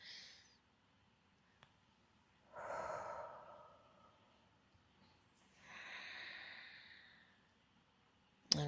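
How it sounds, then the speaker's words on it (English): Slow, deep breaths during a yoga flow session, three long airy inhale-exhale swells spaced a few seconds apart, quiet and close, followed by a brief sharp knock at the end. "Let's do 3 more full cycles of breath."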